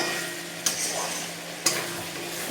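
Goat meat frying in oil in a kadai for a curry, stirred with two sharp scrapes of a utensil against the pan over a constant close sizzle, no voices.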